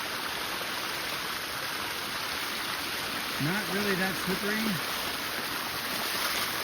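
A pretty creek in Gifford Pinchot National Forest rushes in a steady broadband wash throughout, close and continuous, with a voice speaking briefly over it midway.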